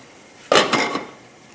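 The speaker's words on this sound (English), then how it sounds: "to help it move along a little faster, I'm going to put a lid on it" A lid lands on a cooking pot of French beans: a close metallic clank followed by a couple of quick rattling settles, then quiet.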